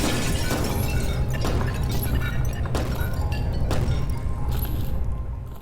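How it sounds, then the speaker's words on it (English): Glass shatters in the VR video game Vertigo Remastered, a loud dense crash with several sharp breaking bursts over a sustained heavy rumble that tapers off at the end. "We're going to go break this glass over here."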